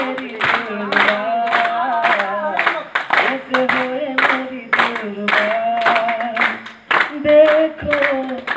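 Audience at a Government Polytechnic, Khutri event clapping along to a live Hindi song, a rhythmic group clap in time under a singer's voice and music, loud and close throughout.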